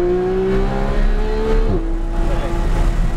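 Supercar on a race track accelerating out of a corner, engine note rising in pitch and then dropping sharply as it shifts, loud and close, with a driving instructor talking over it.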